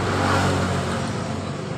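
Motorcycle engine with a worn piston pin idling and running steadily up close, a continuous rough mechanical drone with no speech.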